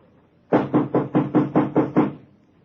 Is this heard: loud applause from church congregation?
no